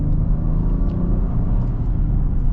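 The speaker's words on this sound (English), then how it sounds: "we are going to get like a partial acceleration here with the new one, and see how that 10-speed kind of does at low speeds" A 2022 Acura MDX with a 10-speed automatic pulls away under partial throttle, a low steady engine rumble with muted road noise heard from inside the cabin, brief and fairly loud.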